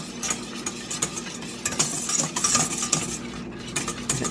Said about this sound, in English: want to make sure that you continue to whisk this so it does not scorch